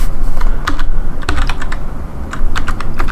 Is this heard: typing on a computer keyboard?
yes